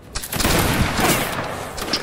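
Musket volley fire in the Napoleonic Wars video game: a dense crackling fusillade of many shots bursting out together and rolling on loudly through the whole stretch, with scattered sharper reports near the end.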